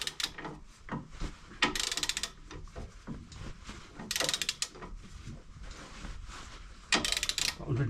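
A ratchet wrench tightens a bolt on the front air spring of a Land Rover Discovery 3, producing repeated clicking pawl bursts and metallic clunks in uneven spurts, close up, with no talk.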